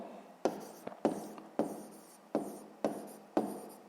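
A pen scratches across paper during a sixth-grade math exercise, about six short, quiet strokes at a steady pace, recorded up close in a silent room.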